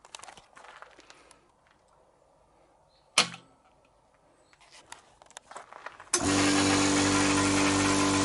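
A 2GALLI CS60100 6 hp, 100-litre, 230 V single-phase oil-free air compressor kicks on: after some clicks and a sharp knock, its motor-pump units start up and settle into a loud, steady drone.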